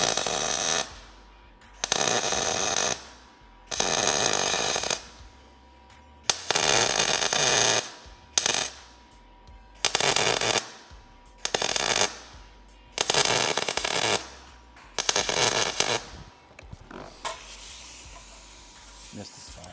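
A MIG welder lays a short strip weld on metal in a workshop, with repeated crackling, hissing bursts of about a second each, separated by brief pauses, loud and close.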